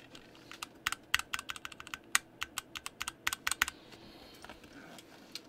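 Mechanical keyboard being typed on during a Fjell keyboard build, quick irregular clacks with some heavier strikes carrying a faint metallic spring ping, close and fairly quiet with no talking.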